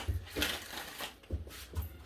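Golden Universal Tarot cards shuffled by hand, soft close riffling and slapping in a few quick bursts, faint and intimate in a quiet room.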